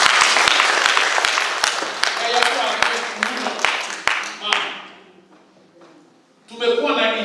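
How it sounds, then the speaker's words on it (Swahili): A church congregation at a Kikuyu Sunday service during Lent breaks into dense, rhythmic group clapping that fades out after about four seconds, followed by a voice speaking. "Tumpigie makofi."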